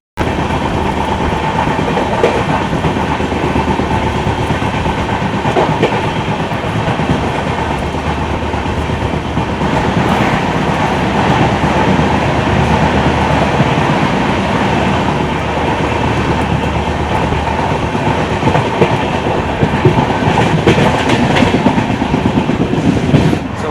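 A superfast express train heard at an open door roars steadily and loudly, with rhythmic rattling of wheels and wind noise rushing throughout.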